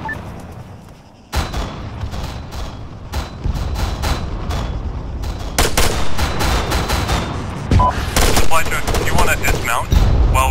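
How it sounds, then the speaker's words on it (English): An Arma 3 firefight brings a dense fusillade of gunshots and machine-gun bursts, sharp cracks at irregular intervals, some near and loud, others more distant, with booming impacts and occasional shouted voices. "Fire! Taking fire!"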